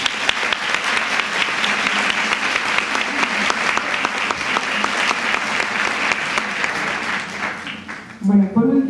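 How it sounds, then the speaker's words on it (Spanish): An audience at a Latin American panel discussion on Black feminism applauds steadily for about eight seconds, dense broad clapping that ends abruptly, followed by a brief voice. "Un aplauso, por favor."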